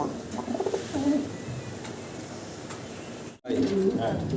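A male racer pigeon coos in repeated low throaty bursts close by, with a short silent gap near the end, under and between people talking.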